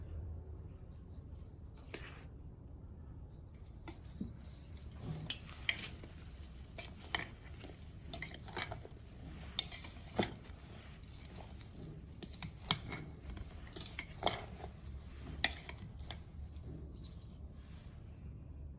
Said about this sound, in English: add this masala gradually to it and keep mixing it